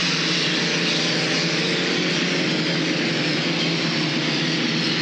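Vintage unlimited hydroplane race boats roar in a steady, loud, unbroken engine drone near the Blue Bridge turn at the Tri-Cities races, with dense broadband power holding throughout and no voices.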